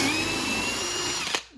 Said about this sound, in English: this Torcraft brushless drill that we're testing